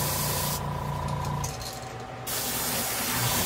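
Airbrush spraying paint onto a 5.5-inch bass fishing lure, a steady close hiss that briefly drops away midway before resuming, with no talking.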